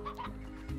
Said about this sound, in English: Plenty of chickens. Make more chickens.